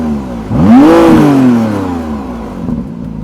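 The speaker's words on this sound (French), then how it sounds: "ça fait plaisir ce petit bruit très très sympathique du V6 biturbo" The twin-turbo V6 of a McLaren Artura, in comfort mode, gives a single loud, close rev blip that rises quickly and then falls away into a softer engine note.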